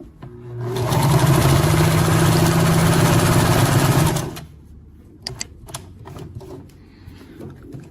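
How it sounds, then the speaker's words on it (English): A sewing machine with a horizontal hook runs steadily through fabric for about four seconds with a loud, even whirring stitch rhythm. It then stops, and a few faint clicks and handling sounds follow. "we thread the machine, lower the needle down, and finally step on the foot pedal now."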